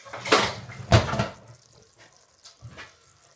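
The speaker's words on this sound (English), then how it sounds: "give that a quick stir" A spoon briefly stirs chicken fricassee in a pot, giving two clattering scrapes followed by quieter bumps and a faint settling of the sauce.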